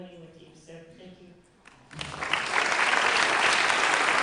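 An audience at a youth sports awards ceremony breaks into loud, sustained applause for athletes on stage, the clapping starting abruptly after a stretch of amplified talk and music and continuing dense and steady to the end.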